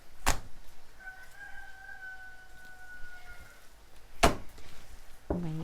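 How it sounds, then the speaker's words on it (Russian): A rooster crows once in a long, drawn-out call, fairly faint and held for a couple of seconds, in a garden plot, with a few sharp knocks around it. "Мои петухи."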